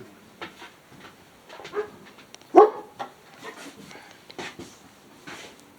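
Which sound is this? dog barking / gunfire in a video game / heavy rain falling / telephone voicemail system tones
dog barking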